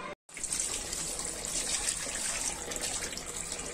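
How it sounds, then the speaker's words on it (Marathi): Grated potato slices for wafers being rinsed in a bowl of water, a steady close splashing and trickling wash that runs almost unbroken after a brief silent gap at the start. "आपण आता स्वच्छ पाण्यात बटाटे धुवून घेत आहोत"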